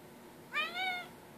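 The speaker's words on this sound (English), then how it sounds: "A meow." A single clear cat meow, short and rising then falling, heard alone against quiet background noise.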